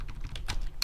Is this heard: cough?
no